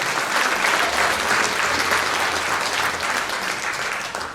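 An audience at a Lemko cultural gathering in Gorzów Wielkopolski gives sustained, dense applause that holds steady and tapers slightly at the end.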